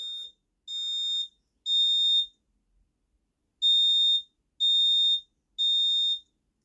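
Hochiki personal alarm sounding after its pull tab is pulled: a shrill electronic tone in pulsed bursts, three loud beeps, a short pause, then three more, clear and close with no talking.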